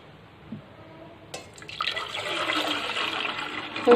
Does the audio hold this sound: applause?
no